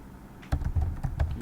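Computer keyboard keys pressed in short irregular bursts of clicks, close and fairly crisp, with no talking.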